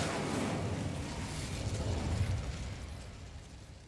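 An Incendio fire spell cast in Hogwarts Legacy, a loud whooshing burst of flame that swells and then slowly fades over a few seconds, with no talking.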